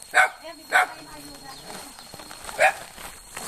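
A dog barks three times in a village setting, short sharp close yelps spaced apart, while people talk in the background.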